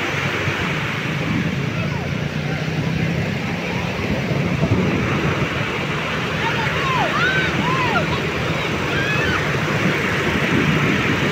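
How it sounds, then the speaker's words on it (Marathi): Sea waves wash in as a continuous loud roar of surf, with wind buffeting the microphone throughout and faint bird-like chirps in the background. "जिकडं बघावं तिकडं लाटाच लाटा, जिकडं बघावं तिकडं समुद्रच समुद्र"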